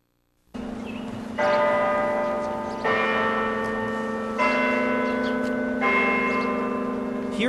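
Church bells ring out in the heartland of the United States to honor veterans. Loud, resonant peals strike repeatedly and the tones overlap into a sustained, ringing wash with no voices.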